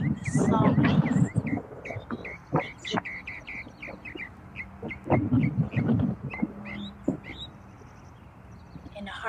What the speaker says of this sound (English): Notice here, birdsong becomes hymn of joy